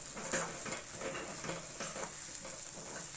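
Corn kernels being sautéed for a usal, stirred in a pan with a steady soft sizzle and repeated scraping strokes of the spoon, close up, with no voices.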